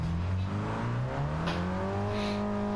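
A race car in the Greddy Cooper Z League pulls out of the pit lane at Tsukuba circuit, its engine droning steadily and climbing in pitch as it accelerates, close and continuous with no talking.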